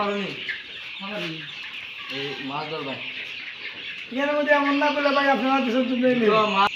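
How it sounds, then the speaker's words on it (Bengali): Fayoumi chickens, six-week-old birds on a poultry farm, cluck and call repeatedly at close range, growing louder and more continuous in the second half, with faint voices mixed in. "আমাদের আজকে মুরগি দেড় মাসের বাচ্চা বিক্রি করা হচ্ছে"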